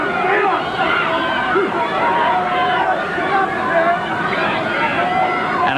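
A big crowd at a 1985 Stampede Wrestling arena event, a loud continuous roar of chatter and cheering with many overlapping voices, steady throughout.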